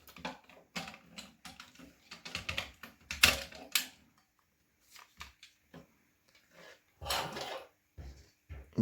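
Clicks and clacks of small metal parts and a spring being handled while a Recon MK2 is repaired, irregular bursts of tapping and scraping separated by short pauses, close and fairly quiet.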